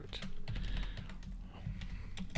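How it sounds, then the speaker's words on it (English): Rapid clattering keystrokes on a computer keyboard, close and steady, tapping away continuously over a low background hum. "That is a tremendous keyboard."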